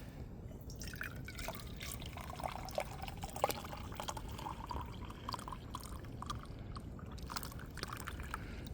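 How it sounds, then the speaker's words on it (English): Hot water poured into a cup in a log cabin, a faint, quiet trickle with irregular splashes and drips running steadily for several seconds, heard alone without talk. "So you put the water into your cup."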